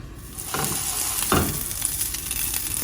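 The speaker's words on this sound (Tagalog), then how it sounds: "Magprito lang po ako ng konti para lang po matikman natin ang lasa." Homemade chicken sausage frying in a pan, a steady close sizzle with brief stirring scrapes, no voices.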